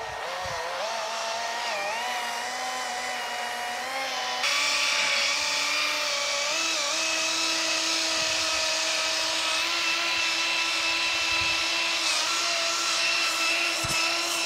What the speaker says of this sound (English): This pad, with the actual movement and friction created by this buffer, will create heat to bring back up that shine.